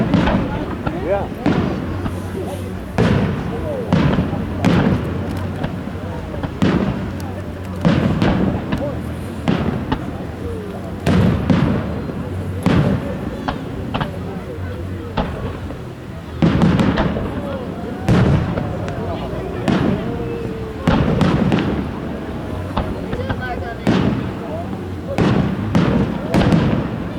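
Fourth of July fireworks over South Haven, Michigan in 2014 boom and crackle in a steady barrage of distant thuds and bangs, while onlookers talk and react throughout.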